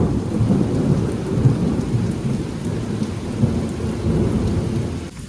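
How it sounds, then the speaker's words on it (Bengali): Loud thunderstorm with heavy rain, a dense close roar of falling rain over deep rumbling thunder that swells and ebbs for several seconds without pause. "আর বৃষ্টির সাথে সাথে প্রচুর জোরে জোরে বিদ্যুৎ চমকাচ্ছে"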